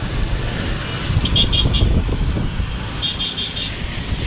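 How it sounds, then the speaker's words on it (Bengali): Cars whoosh past one after another on a busy bridge, a steady roadway rumble with gusty wind noise buffeting the microphone and a couple of light horn toots in the distance. "শোষা করে যাচ্ছে এক একটা গাড়ি"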